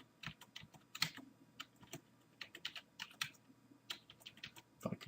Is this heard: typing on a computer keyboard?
yes